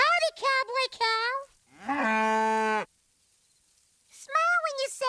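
A cartoon cow character called Cowboy Cow in a Wild West setting gives a long, steady, voiced moo, clearly performed by a human voice, between stretches of animated, sing-song character speech.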